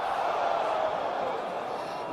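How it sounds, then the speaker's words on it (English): A crowd boos with a long, sustained, fairly loud droning jeer that holds steady throughout. "You can hear him booing."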